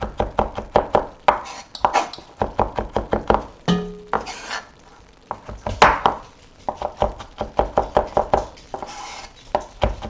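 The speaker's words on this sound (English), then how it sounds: "It's not going to be finely chopped." A knife chops garlic on a cutting board for gumbo, giving rapid, loud, close knocks in steady bursts with a brief pause partway through and no talk.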